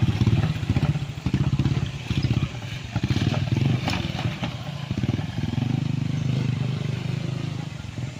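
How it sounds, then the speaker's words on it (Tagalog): Motorcycles pass near a tunnel on a farm property in Calauan, Laguna, a loud pulsing engine rumble that rises and falls as they go by, with some clatter and a voice mixed in. "May mga motor na dumadaan din."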